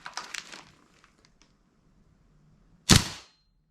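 G&P gas blowback airsoft rifle fired with the listener behind the muzzle: a short burst of sharp cracks at the start, then quiet clicks, and one loud close shot near the end.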